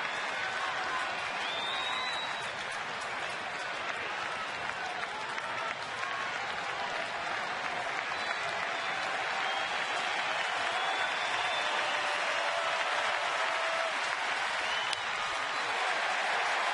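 Sellout crowd at a Mets at Phillies baseball game in Philadelphia, applauding and cheering on its feet; a steady, dense roar of clapping fills the stadium throughout with no break.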